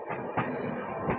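A Katwa–Rampurhat passenger train pulls in at a station platform, giving a close, steady rumble of rolling wagons with a few soft rhythmic wheel knocks and no voices.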